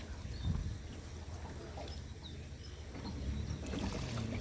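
A rowboat is paddled across water, with faint, soft splashes and lapping strokes under a quiet outdoor hush and no talking.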